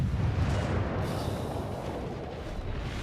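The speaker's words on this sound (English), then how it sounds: "I'm going to go take a few cheeky-breaky shots at the Scharnhorst." Naval gunfire in World of Warships, aimed at the Scharnhorst, rolls as a dense, loud, low booming rumble that stays steady for about three seconds with no pauses.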